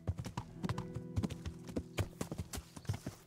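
Horse hooves clip-clop in the medieval video game Kingdom Come: Deliverance, a quick irregular run of close hoofbeats with faint background music and no talk over them.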